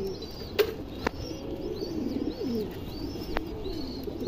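A black-lined pigeon with ring eyes and purple feet coos repeatedly nearby, with a few sharp clicks and brief wing flaps breaking in.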